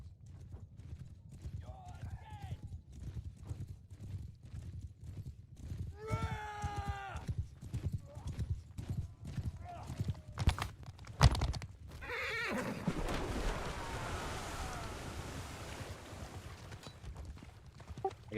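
Horses gallop with steady clip-clop hooves and whinny during a Mount & Blade Bannerlord battle between the Aserai and Darshi armies featuring horse archers, with battle noise swelling and people talking over it.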